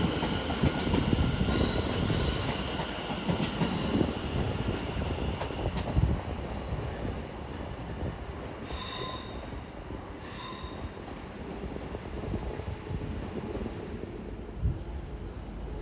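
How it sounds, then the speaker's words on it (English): A London Overground Class 710 electric train from Watford Junction rolls into London Euston, a continuous rumble of wheels on track with occasional squeals and tonal whines, steady and fairly close. "As incoming as well will be a terminating London Overground service from Watford Junction in the form of 710-379."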